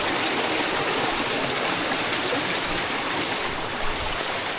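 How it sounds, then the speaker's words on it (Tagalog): A stream of water pours and splashes between rocks, a loud continuous broadband rush that stays close and steady throughout with no talking. "tignan nyo ang mga tubig. Ganda. Naglulusutan sa mga bato."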